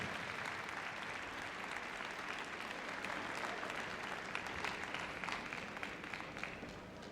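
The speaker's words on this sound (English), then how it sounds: "Let's hear it for Dan and Sue Smith." An audience applauding steadily at the Crufts 2012 dog show, a dense wash of clapping that holds for several seconds without any talk.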